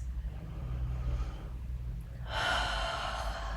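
A slow yoga exhale, breath rushing out audibly and close for about a second after a quieter stretch, over a low steady room hum.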